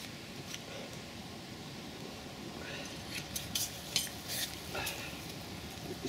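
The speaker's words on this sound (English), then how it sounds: "Sizzling away there." Food sizzling in a pan over a campfire in woodland, a faint steady crackling fry with occasional utensil scrapes and stirring clinks.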